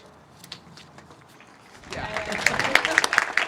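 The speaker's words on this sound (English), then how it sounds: "We'll give you a round of applause" An audience at a groundbreaking ceremony for an athletic center breaks into steady, dense applause partway through, after a quieter stretch with a speaker's voice.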